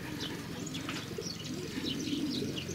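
Racing pigeons arriving at the loft coo softly and flutter their wings, a faint, close, continuous mix of low cooing and occasional flapping with no talk.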